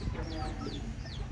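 Backyard chickens cluck nearby in short, rising calls, two or three clucks in quick succession over a low background hum.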